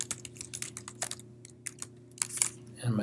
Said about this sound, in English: So I'm going to enter my email address